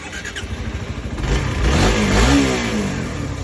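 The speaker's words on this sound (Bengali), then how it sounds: "বাইক কিন্তু স্টার্ট নিয়ে নিল" A Suzuki GSX-R150 motorcycle with keyless ignition cranks over after a few soft clicks, then catches and revs up loudly before settling into a steady, close engine note.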